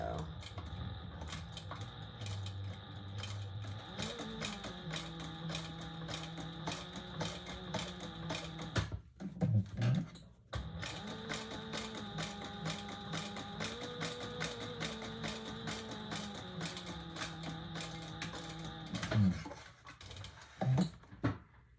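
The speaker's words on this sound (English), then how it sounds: "I'm gonna go really slow because this machine does not like cotton, so really slow." A sewing machine stitches cotton slowly, a steady close mechanical whir with rapid needle ticking that runs continuously, pauses briefly midway, then resumes, while a person talks over it.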